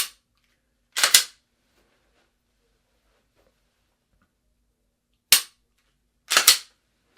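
Pistol shots fired during a shooting skills test: a single sharp crack, a quick pair, then after a long pause another single shot and a fast double, all loud and close with silence between.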